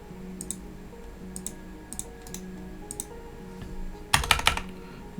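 Someone types on a computer keyboard while configuring switch ports, with sparse light key clicks early on and then a quick, louder burst of keystrokes near the end, up close over a faint steady hum.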